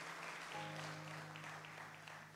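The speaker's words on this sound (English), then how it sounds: "Let's give the Lord a hand clap of praise" Congregation clapping in praise at a church service, a dense wash of hands with a sustained organ or keyboard tone entering partway through and holding beneath it.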